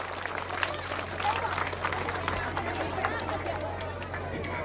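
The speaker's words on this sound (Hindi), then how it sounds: "एक बार जोरदार तालियां हो जाए हमारे आर्टिस्ट के लिए।" An audience at an outdoor Dussehra stage event applauds the performers, a dense patter of clapping spread through a crowd. Someone speaks over a microphone at the same time.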